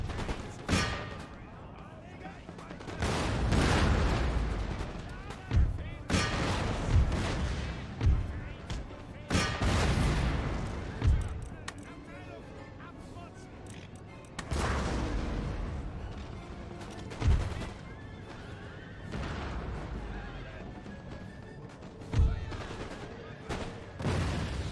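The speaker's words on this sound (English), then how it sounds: "the Dragoon's firing over the top there" Volleys of musket fire from dragoons on a battlefield in Empire: Total War, a series of sharp cracking bursts at irregular intervals over a dense rumbling din of battle, with a voice talking over parts of it.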